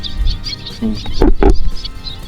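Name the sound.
large birds calling at nesting site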